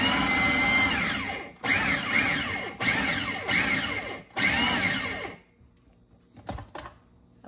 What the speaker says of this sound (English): Just going to blend that up. Again, pulsing.